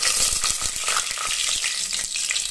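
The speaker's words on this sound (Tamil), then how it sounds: "பட்டை வகைகள் பொரியட்டும்" Whole spices such as cinnamon and bay leaf frying in hot oil as the base for a country chicken biryani, a close crackling sizzle with rapid sharp pops and spatters.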